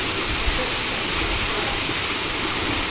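Waterfall at Karanjkot Ashurhad with blue water, a loud, steady roar of falling water heard close by that fills the whole clip, with no talking.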